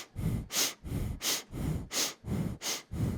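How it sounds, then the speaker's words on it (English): Rapid, rhythmic breath of fire during a Kundalini yoga class: about a dozen sharp nasal exhales and inhales in a steady pulsing pattern, close and fairly loud, with no talking. "as soon as you get into the breath of fire"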